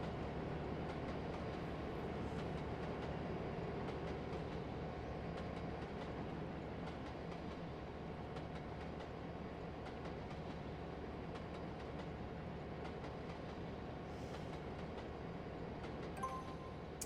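A Class 66 locomotive hauls a container freight train on the Colchester–Harwich route in Trainz Simulator 3, giving a continuous steady rumble with faint rhythmic rail clicks, unbroken and without voices.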